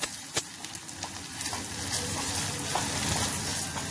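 Chicken chilli with black pepper sizzling and frying in a pan while being stirred, a continuous close hiss with scraping stir noises and no talk.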